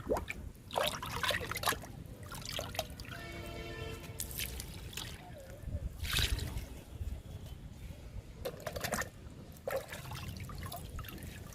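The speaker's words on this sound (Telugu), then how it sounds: "అందుకనే మనం లిక్విడ్స్ ఇవ్వాలి ఇప్పుడు ఇచ్చేద్దాము రెండు మొక్కలకి" Liquid fertilizer poured onto fruit plants in a summer garden, heard as close, steady trickling and splashing in several bursts with short pauses between.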